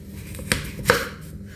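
A knife cuts peeled apples into quarters on a chopping board, giving two crisp, close chops about half a second apart, with no talking.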